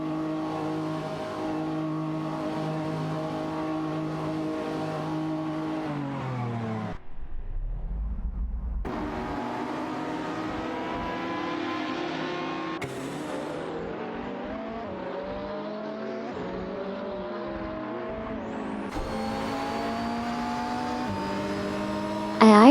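Lamborghini Huracan race cars scream through a racing video game, engines climbing and dropping through gears with a brief low pause, then tires squeal and several cars whine together loudly, and no one speaks.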